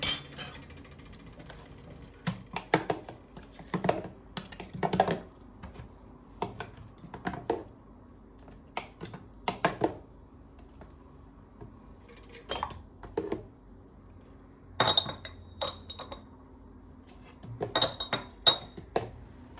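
Metal spoon clinking and scraping against a bowl while batter is stirred after a tablespoon of nigella seeds goes in, with irregular bursts of sharp clinks separated by quieter scraping, close and alone without talk.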